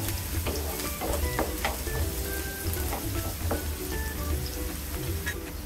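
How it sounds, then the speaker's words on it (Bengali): Three chopped onions frying in a modest amount of oil for a prawn and bottle gourd curry, a loud continuous close sizzle with faint stirring clicks throughout. "1 মিনিটের মতো পেঁয়াজটা আমি ভেজে নেব।"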